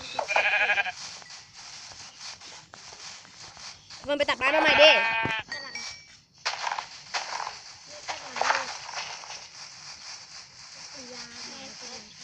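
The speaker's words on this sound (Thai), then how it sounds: "นั่งตีแกะข้างทาง" Sheep bleating in Minecraft survival play, several short wavering bleats scattered among game sounds while players chat over them.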